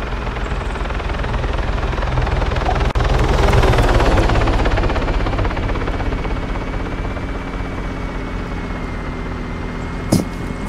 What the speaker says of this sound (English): That police chopper looked like it turned around